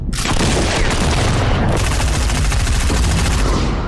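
Gunfire from a weapon in the video game Fortnite rings out as a loud, rapid burst of overlapping shots and booms, sounding close and continuous for several seconds.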